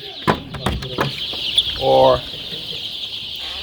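Seven-day-old chicks, about 2,000 of them, in a storeroom on a chicken farm, chirping and peeping with a louder trill near the middle, while someone speaks briefly at the start.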